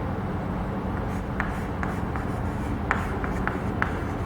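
Chalk or marker scratching on a classroom board during a chemistry lecture on states of matter, with short taps and strokes at irregular intervals over a steady room hiss.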